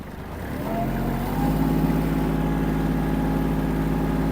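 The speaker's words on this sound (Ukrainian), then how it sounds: "Це найменша швидкість, з якою можу рухатись тракторець." A Kubota GL-23 Japanese mini tractor engine runs at its lowest speed, a low, even mechanical drone, continuous throughout and close by.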